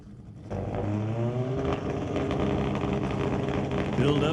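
Top Fuel Harley drag motorcycle at a drag strip, engine rising sharply to a loud, sustained revving roar as turbo boost builds, with harmonic whine climbing and an announcer talking over it.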